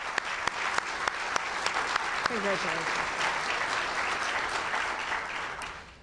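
An awards ceremony audience applauds with steady, dense clapping from a large crowd, loud and sustained before fading at the end, while a voice briefly speaks over it.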